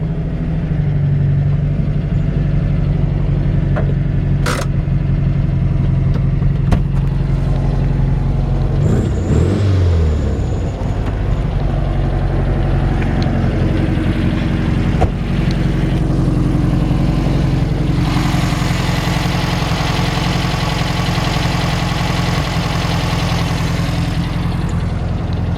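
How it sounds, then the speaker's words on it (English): A 1966 VW Beetle's small air-cooled engine idles steadily with a low putter, a few clunks and a brief rev midway, close by with no talking. "it has that iconic little pea shooter sound to it"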